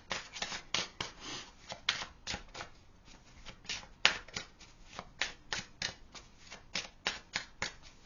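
Tarot cards being shuffled by hand, a steady run of crisp riffling bursts repeating in quick rhythm, close and fairly quiet with no talking.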